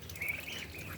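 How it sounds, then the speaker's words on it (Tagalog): Muscovy ducks and ducklings on a farm give a brief soft call, faint and distant over low background noise. "Mga Muscovy ducks. Mas mabilis lumaki kaysa yung mga itik."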